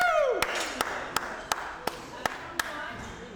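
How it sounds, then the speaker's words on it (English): A few people clap evenly at a professional squash tournament, seven distinct claps spaced roughly a third of a second apart, near and sharp, following a brief voice at the start. "And a big applause for Mason Smales."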